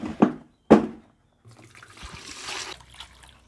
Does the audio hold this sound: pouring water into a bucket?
yes